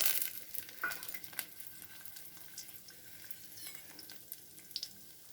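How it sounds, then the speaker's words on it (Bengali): Lentil dumplings (bori) fry in hot oil on a lowered gas flame, giving a quiet crackling hiss broken by scattered small pops and a few sharper spatters. "বড়িটা ভালো করে ভেজে নেব"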